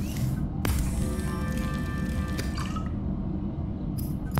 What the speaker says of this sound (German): Ich würde noch einmal Wasser herstellen und dann essen.